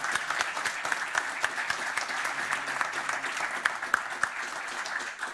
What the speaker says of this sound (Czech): Takže ještě jeden ten potlesk,